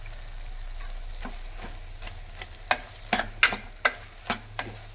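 Tomato and tamarind fry in a pan while a spoon stirs them, giving a soft steady sizzle broken by a series of sharp scraping clicks and taps that grow louder toward the end, with no voices.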